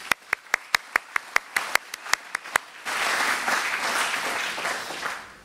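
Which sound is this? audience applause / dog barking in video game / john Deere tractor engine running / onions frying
audience applause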